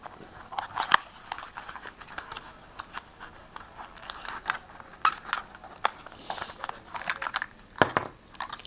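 Packaging of an MX95E digital servo being opened up close, with bursts of crinkling plastic, tearing and small clicks in an irregular rhythm, quiet and without speech.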